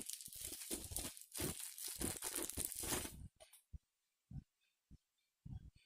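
A microphone's protective plastic packaging cover being opened up close, with loud continuous crinkling and rustling for about three seconds, then a few brief isolated crackles amid near silence.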